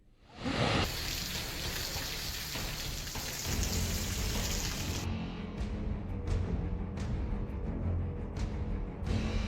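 Heavy, continuous rain pouring down during a downpour in Madhya Pradesh, a dense steady hiss that stays loud and unbroken throughout, with no voices.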